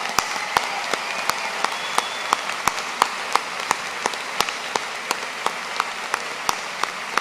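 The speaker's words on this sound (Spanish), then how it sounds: "Un aplauso para ellos." An audience applauds secondary school students at an honorary doctorate ceremony for Cristina Fernández, with steady, dense clapping and sharp individual claps ringing out throughout.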